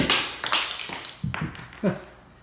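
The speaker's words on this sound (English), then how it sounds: "So I'm going to go around and knock some of these off." Rubber mallet knocking pieces off slate tile while laying a butler's pantry floor: a series of sharp taps and knocks at an uneven rhythm, several close hits with brief chipping rattles between them, no speech.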